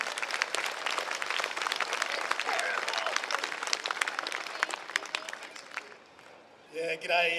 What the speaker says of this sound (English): Big round of applause, Jim.